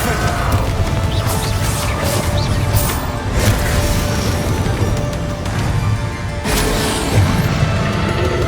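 A fire-blast spell explodes in a fantasy video game, a loud, continuous wash of crashing, rumbling destruction with repeated bursts and clatter, steady throughout with no voices.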